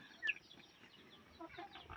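Chickens clucking faintly nearby, a few short scattered calls with one sharper squawk early, over quiet background.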